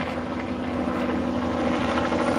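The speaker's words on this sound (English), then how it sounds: "You'll see the helicopter flying?" A helicopter flies nearby, about 200 feet away, during an outdoor magnet fishing outing, its steady rotor drone and engine whine continuous and moderately loud throughout.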